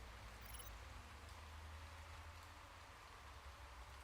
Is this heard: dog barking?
no